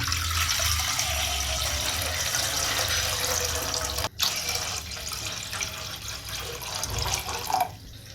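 Tap water runs steadily into a cooking pan to boil noodles for chicken fried noodles, a continuous splashing fill heard up close and alone, with a brief break partway through.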